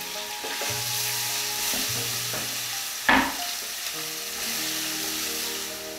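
Chopped onion and shallot hit a pan of frying rice with a steady, close sizzle, a sharp clatter as they drop in midway, then hissing and stirring continue.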